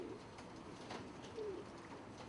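Pigeons of a colorful spangled breed kept at home coo softly, with a low, faint warble rising briefly over a steady background hiss.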